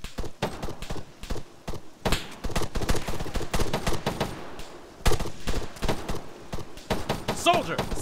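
Rapid, close gunfire from Arma 3 combat on Altis, with dense sharp shots and bursts cracking through the whole stretch while voices talk over the firefight.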